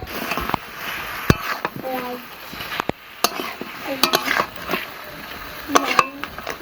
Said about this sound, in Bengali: এবারে মাছের সাথে মশলাটা খুব ভালো করে মিশিয়ে নেবো।